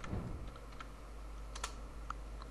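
Commands are typed on a computer keyboard while configuring a Cisco router and switch, producing a quiet run of soft, scattered key clicks with a few sharper taps over a steady low hum.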